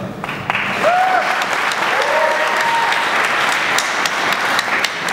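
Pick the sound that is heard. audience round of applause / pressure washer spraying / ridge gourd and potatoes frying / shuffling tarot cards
audience round of applause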